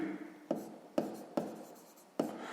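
Pen writing a math solution by hand on paper: four quick, faint scratchy strokes with short taps, spaced irregularly about half a second apart, close and quiet.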